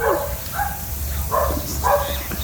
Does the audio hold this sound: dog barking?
yes